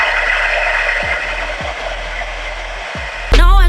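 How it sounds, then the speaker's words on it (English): A hair dryer blows steadily on its cool setting while a blonde bob wig is being styled, a loud continuous airy whoosh with a few brief dips before a sharper surge near the end. "I want to blow dry it on cool air so we can get it tacky."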